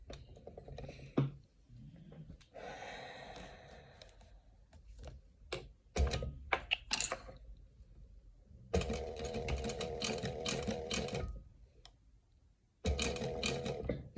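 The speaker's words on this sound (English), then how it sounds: "This is not just sewing, this is getting it bloody accurate." A sewing machine stitches a pink dog collar in several separate bursts, with quiet handling sounds and pauses between runs; each stretch of stitching is steady and fairly close.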